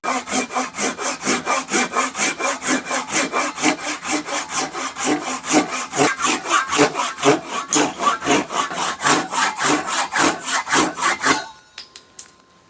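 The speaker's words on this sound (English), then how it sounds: "I'm going to switch over to the saw that I normally use" A hand saw cuts through wood while an antique pickaroon is being restored, its strokes a steady, loud rasping rhythm of about three per second that runs close for over eleven seconds before ending in a few light knocks.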